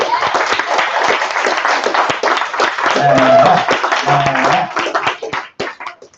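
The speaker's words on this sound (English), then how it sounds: "So I think we should give Max just a full round of applause." An audience bursts into a full round of applause, dense clapping filling the room before thinning into scattered claps at the end, with voices faintly audible underneath.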